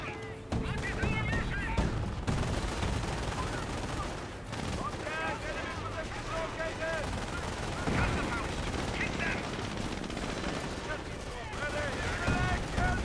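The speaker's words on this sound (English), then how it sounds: "Panzer Grenadier is firing away." Panzer Grenadier squad firing in Company of Heroes, with rapid rifle and machine-gun bursts crackling throughout amid distant battlefield booms, while someone talks over the steady gunfire.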